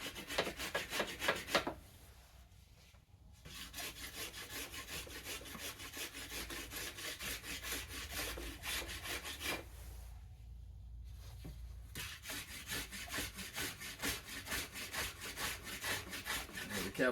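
A hand rasp shaves wood from the belly of a yew bow in long, steady back-and-forth strokes, close and continuous, with two brief pauses between runs of strokes.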